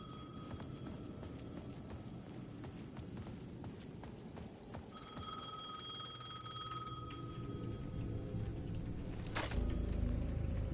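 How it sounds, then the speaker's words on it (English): A payphone in the video game Alan Wake II rings in bursts under an ambient game soundscape, with a low rumble building toward the end. "The payphone at the edge of the plaza was ringing again."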